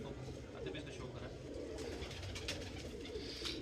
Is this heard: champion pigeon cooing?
yes